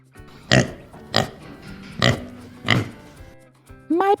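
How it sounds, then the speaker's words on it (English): A cartoonish pig oinking sound effect from a children's read-aloud book: four short, loud grunting snorts at an even pace, then a quick rising squeal at the end. "My pig, Clever Pig."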